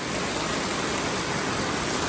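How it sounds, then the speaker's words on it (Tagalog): Steady, dense rain hisses continuously, a heavy downpour during a typhoon, with no pauses and no voices. "Lumalakas na yung ulan"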